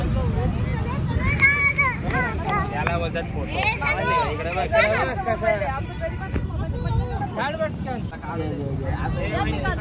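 Outdoor wind rumbles and buffets the microphone steadily under constant chatter from several people.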